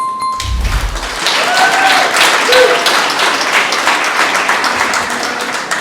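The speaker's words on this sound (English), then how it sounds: "So please give her a big round of applause" An audience applauds at a book launch event in Melbourne, Australia, with a low thump at the start, then steady, full clapping from many hands close by that continues evenly throughout.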